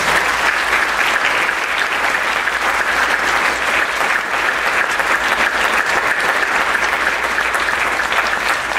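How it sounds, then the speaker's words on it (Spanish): Loud, sustained applause from a large crowd, dense and unbroken throughout with no talking on top. "Pido un fuerte aplauso para recibir"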